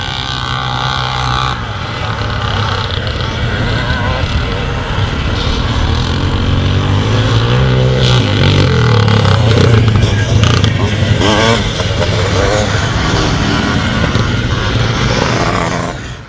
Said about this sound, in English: have a listen to the sound of this big 4-stroke engine